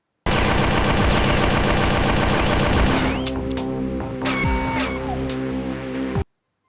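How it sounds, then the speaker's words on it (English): Cyclone submachine gun from a video game reloading with a mechanical, printer-like whirring and rapid clicking, loud and dense at first, then shifting to smoother scanning tones and small chirps before cutting off abruptly; no talking. "The human-made Cyclone submachine gun, by contrast, reloads like an office paper shredder, scanning a flat magazine for bullets. It even sounds like an inkjet printer."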